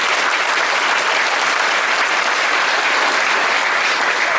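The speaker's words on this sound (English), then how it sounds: "how about a big round of applause to welcome Rain back" A school assembly audience at a Dux address applauds to welcome the speaker back, producing a loud, dense, steady wash of clapping that fills the whole stretch without a break.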